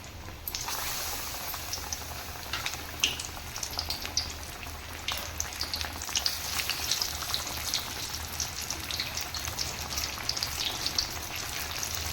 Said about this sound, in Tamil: எண்ணெய் சூடாயிருச்சு நம்ம இப்போ பஜ்ஜி போட்டுக்கலாம்